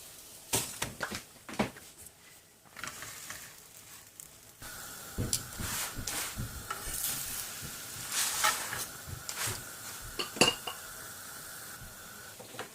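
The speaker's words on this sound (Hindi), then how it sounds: "अब इसको निकालते हैं और तीसरा डालते हैं।" Kitchen clatter of a cooked paratha being lifted off a hot pan and the third one laid on, with scattered metal clinks and scrapes over a soft sizzle, close and fairly quiet.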